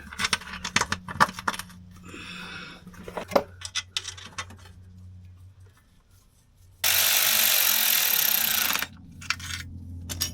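Bolts hand-threaded into a VW oil pan during a gasket repair: light metallic clicks, scrapes and jingles up close. A steady loud hiss or whir of another tool cuts in for a couple of seconds.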